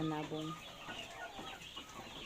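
Parent-stock chickens cluck and murmur nearby in a steady, overlapping chatter, with a brief vocal call at the start.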